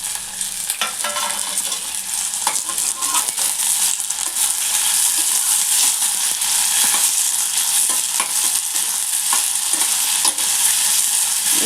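Fenugreek leaves and onions frying together in a pan, a steady close sizzle with frequent scraping stir strokes throughout, no voices.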